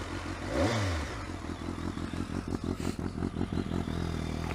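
Motorcycle with a Remus exhaust starts with a loud cranking burst, then settles into a close, steady idle with rhythmic low pulses and a small pop near the end.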